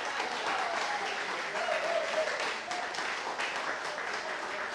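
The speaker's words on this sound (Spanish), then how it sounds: "¡Aplausos!" Applause from a live audience in an auditorium during a music broadcast, an even wash of many hands clapping at moderate volume and sustained for nearly five seconds, with no talk.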